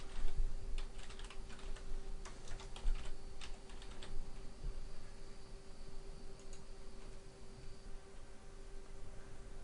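Someone types a domain name on a computer keyboard, giving a quick burst of soft, close key clicks over a faint steady hum, then the tapping thins out into quiet.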